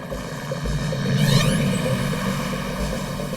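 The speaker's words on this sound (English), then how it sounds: "Police dispatch helicopters to search for the vehicle." A police helicopter flies over during a search for a getaway car, a steady droning engine and rotor sound that swells slightly mid-clip and holds at a fairly loud level throughout, with no voices.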